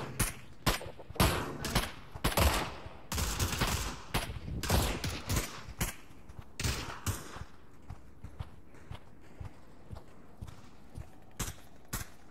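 Gunfire in the VR shooter Pavlov VR, with sharp, loud shots arriving in irregular bursts early on and thinning to sparse, fainter pops and footstep-like taps later.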